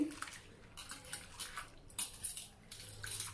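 Soaked black-eyed peas are rubbed and washed by hand in water, with repeated wet swishing and squishing strokes in an uneven rhythm, close and fairly clear.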